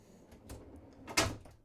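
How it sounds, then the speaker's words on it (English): A refrigerator drawer in a compact camper trailer slides out with a soft rolling rumble, followed by a sharper clack as it reaches the end of its travel, close by. "It pulls out on kind of a drawer mechanism."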